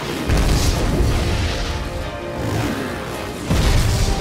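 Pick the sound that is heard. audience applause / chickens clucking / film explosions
film explosions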